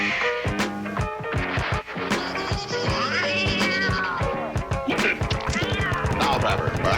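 A cat yowls and meows in a skit on an album, the rising and falling cries sitting in a busy mix of beat, percussion and voices.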